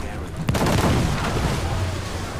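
A heavy ship cannon blast in Assassin's Creed Black Flag, a sudden loud boom followed by a rumbling, sustained roar of naval gunfire.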